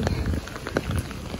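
Heavy rain pattering steadily on surfaces outdoors near a park, close and dense with scattered louder drops, over a brief moment.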